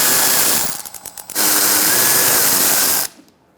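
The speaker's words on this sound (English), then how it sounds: "I'm going to use a 10mm socket to take out this bolt." A loud, close power tool or impact wrench whirs on a bolt with a 10mm socket on a 2004-2009 Mazda 3 during front right CV axle work, its steady run broken by a brief stuttering burst before it stops.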